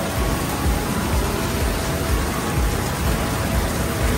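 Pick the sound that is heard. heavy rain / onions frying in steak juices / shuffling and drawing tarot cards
heavy rain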